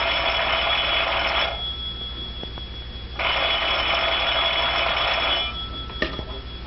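A telephone time service signal from a 1932 film soundtrack: a steady bright electronic tone sounding in two long stretches separated by a pause, with a short sharp chime near the end, loud and without speech.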